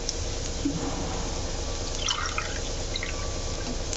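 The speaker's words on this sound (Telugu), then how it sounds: "ఒక గ్లాసు ఉప్మా రవ్వ మూడు గ్లాసుల వాటర్ పోస్తున్నాను" Water pours steadily into a pan with a continuous splashing hiss that fills the whole stretch, with no talking.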